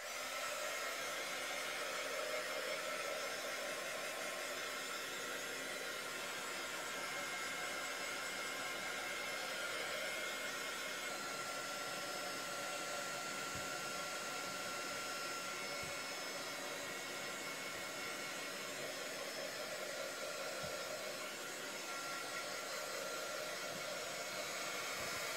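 A hair dryer blows steadily on mixed media paint for the whole stretch, a loud, continuous airy roar with a slight shift in tone partway through and no talking.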